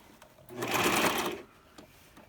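A sewing machine stitching a closure wig in one short burst of whirring, about a second long, close and moderately loud, with brief clicks before and after.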